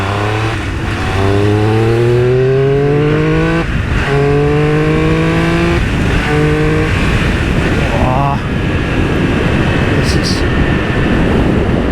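A Triumph Speed Triple motorcycle engine revving hard through several rising gear pulls, loud and close, each climb cut by a shift before the next surge.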